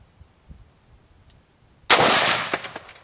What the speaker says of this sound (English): Let's shoot at the center of mass paddle.